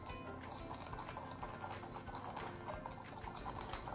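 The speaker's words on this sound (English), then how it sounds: "So I'm gonna mix this all together." Churro mini muffin batter being mixed in a bowl, a dense, busy stream of stirring and scraping clatter that stays steady and fairly loud throughout.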